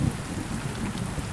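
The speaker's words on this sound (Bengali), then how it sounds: "চিরিচিরি বৃষ্টি হচ্ছে" A light drizzle of rain falls steadily on a dark night, a dense even patter with no voices.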